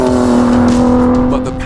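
A Ford GT sports car engine, sharing its design with the Ford F-150 pickup truck's engine, roars loud and close with a steady, truck-like drone that rises slightly before easing off.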